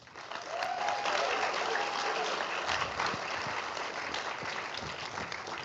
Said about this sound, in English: how about a huge round of applause for all of our partners?